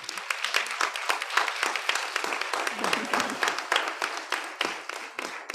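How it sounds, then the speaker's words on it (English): A round of applause at a school board of education business meeting, a moderate crowd clapping steadily with distinct individual claps audible, fairly close and unaccompanied by talk. "we can give them a round of applause"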